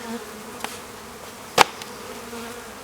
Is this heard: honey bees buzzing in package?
yes